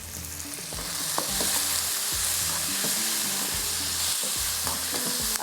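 Chicken rice ingredients with tomato, onion, chillies, whole coriander, cumin and capsicum sizzle in a pan while being stirred, a steady frying hiss broken by repeated scraping and stirring knocks.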